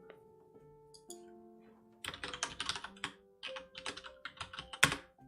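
Rapid clacking keystrokes on a computer keyboard, close and fairly loud, come in irregular bursts with short pauses between them and a sharper key hit near the end. No one speaks during the typing.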